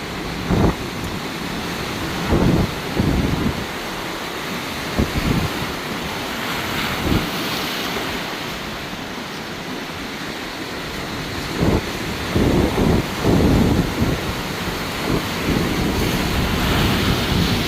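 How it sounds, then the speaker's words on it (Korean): A south wind blows beside the Wangpicheon river in Korea, a steady rushing roar of wind against the microphone with stronger gusts coming and going and a wash like surf beneath it, and no one speaking. "지금 남풍이 불고 있습니다."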